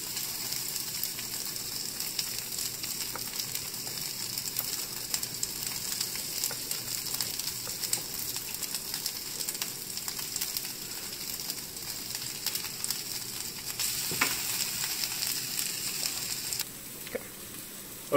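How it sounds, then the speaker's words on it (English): Corn and broccoli sizzle steadily in a hot skillet, a continuous close crackling hiss that holds its level throughout with no talking. "the corn and the broccoli have been heating up for a few minutes now"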